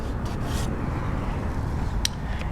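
A utility knife scraping and trimming the plastic inner door panel around the handle hole of a VW New Beetle, a steady close rasping rub with a couple of brief sharper scrapes.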